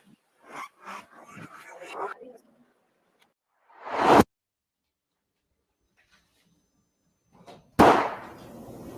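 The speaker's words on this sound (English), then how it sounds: "Sounded like a gunshot." After a few moments of talking, two sharp, loud gunshot-like bangs ring out several seconds apart, each followed by a short echoing decay in an otherwise silent space.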